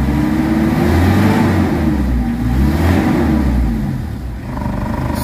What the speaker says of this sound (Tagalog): Pakiramdaman nyo yung galit ng makina